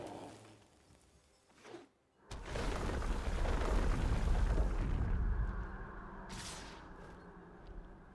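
A Brush Fire card effect in the MTG Arena video game bursts in suddenly as a loud, deep, sustained boom-and-rush of fire that swells for a few seconds and then slowly fades, with no talking over it.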